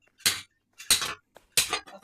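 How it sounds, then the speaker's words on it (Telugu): A hammer strikes a piece of iron to cut it, giving three sharp, ringing metallic blows at an even pace, close and loud with silence between them. "ఇనుము ముక్కనైతే జాగ్రత్తగా కొట్టుకోవాలి ఫ్రెండ్స్"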